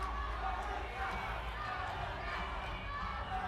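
A distant arena crowd at a junior arm wrestling final keeps up a steady, muffled roar of cheering and yelling, with no separate shouts standing out.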